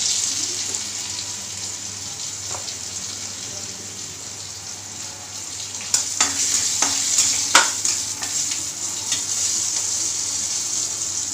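Chana dal and urad dal roast in a pan with a little oil and asafoetida for curry leaf chutney, a soft continuous sizzle with occasional scraping stirs that grow busier and louder halfway through.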